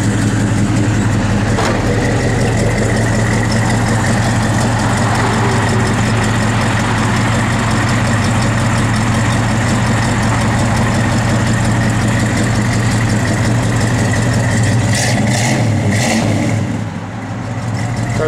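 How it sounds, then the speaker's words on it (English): A 1971 Chevrolet Chevelle SS convertible idles steadily with a deep, even low rumble that holds loud and close the whole time, with brief higher clicks near the end. "Car's got a good sound to it."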